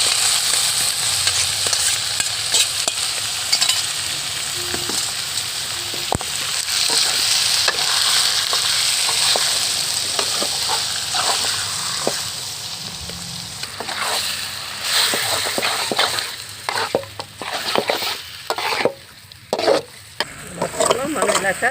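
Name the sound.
mutton masala with ginger paste frying in oil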